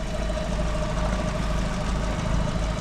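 Idling engine of a used car bought at a UK online salvage auction, heard after its ignition barrel was replaced: a steady, even low hum, close and continuous, with no voices.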